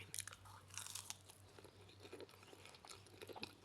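Crispy fried fish fillet is bitten and chewed in a home kitchen, with loud close crunches and crackling bursts repeating over a quiet background hum.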